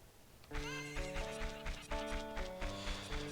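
Epona, the horse in Zelda: Ocarina of Time, gives a bright neigh followed by a steady run of game clip-clop hoofbeats, up close and moderately loud.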